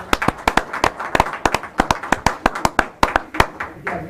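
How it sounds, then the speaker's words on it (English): Rapid, uneven hand clapping from a crowd of parents and students at a borough council meeting honoring graduating kids, a dense ragged burst of claps that carries on steadily throughout. "have a round of applause"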